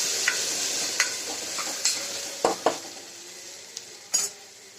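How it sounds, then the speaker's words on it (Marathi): Chili powder and turmeric are sautéed in a pan for masala rice: a soft, steady sizzle with occasional sharp spoon scrapes and clinks against the pan, close by and without talk. "पाव चमचा हळद टाकायचे. थोडं परतून घ्यायचं."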